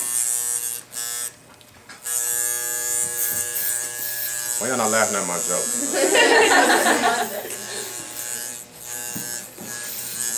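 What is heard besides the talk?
electric hair clippers cutting hair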